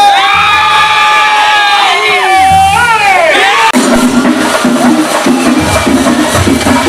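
College crowd at an Onam celebration raising festive aarppuvili cheers, rising whoops and shouts from many voices, loud and close, followed by rhythmic chanting.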